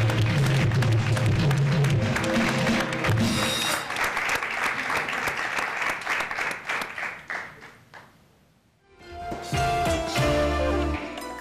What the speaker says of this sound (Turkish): Bu alkışlar sizin için.